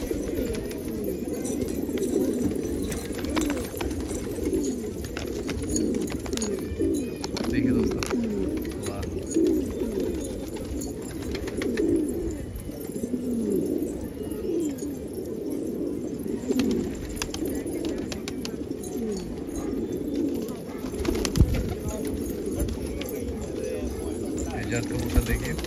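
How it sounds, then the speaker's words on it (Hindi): Patiala pigeons coo in a repeated, soft, low rhythm, a flock murmuring steadily close by with a few louder knocks near the end. "बहुत ही नायाब कबूतर रोक रखे इन्होंने"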